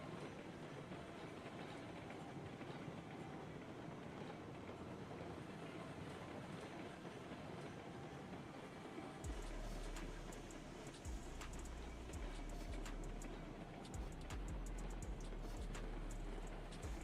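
Locomotive train in a video game running along with a steady rumbling roar, joined midway by heavier low clanking and rattling as it moves, continuous with no talk.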